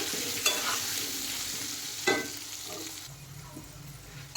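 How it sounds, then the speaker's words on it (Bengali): Potato pieces frying in hot oil, a steady close sizzle with a few sharp scraping clicks as they are stirred around the pan. "আলু নেড়ে চেড়ে ভালো করে আমি ভেজে নেব, একটু লাল লাল করে ভেজে নিতে হবে আলু।"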